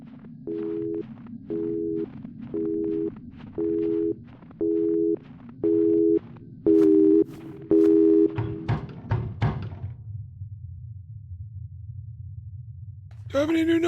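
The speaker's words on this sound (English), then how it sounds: "Is that making a dial tone noise?" Telephone in a horror video game: a steady series of evenly spaced electronic tone beeps, about eight in a row, followed by a few clicks and a low hum, then a brief new tone at the end.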